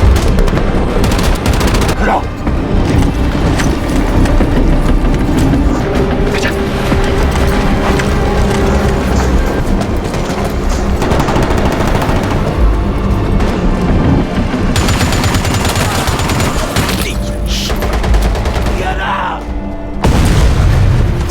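Dense, continuous gunfire and booming explosions from a Korean War battle film roar without letup, loud and close, with machine-gun bursts layered over heavy blasts.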